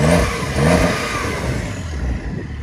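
A 2021 Porsche 911 Targa with 379 horsepower revs hard in its loud exhaust mode. A few throaty rising blips sit over a steady, rumbling engine note, close and loud throughout.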